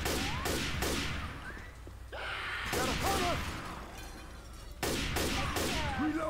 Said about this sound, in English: Wow, I shot him twice.